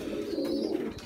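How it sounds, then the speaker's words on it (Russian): Pigeons coo steadily and close by while they eat feed, a continuous low throaty warbling that runs without a break and with no talk over it. "Что вытворяют голуби, тоже видите, как они его сметают."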